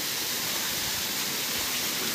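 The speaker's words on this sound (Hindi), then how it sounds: "ये पानी गिरता हुआ" Water falls steadily inside a cave in Meghalaya, a continuous loud rushing hiss that fills the space evenly without pause.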